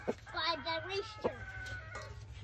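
Rooster crowing on a homestead, a drawn-out nasal call with a rising and falling contour and a second shorter call after, moderately close over a low steady hum.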